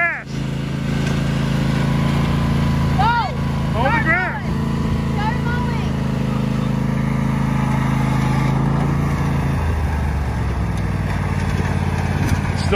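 A lawn mower mowing grass runs close and loud with a steady droning engine throughout, while people talk over it.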